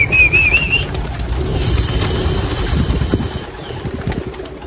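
Racing pigeons being released, with a brief burst of wing flapping amid faint chirps, a high whistling tone and an idling engine rumbling in the background.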